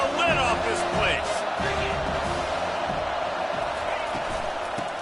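A football stadium crowd roars continuously on third down, a dense wall of cheering held under a commentator's voice throughout.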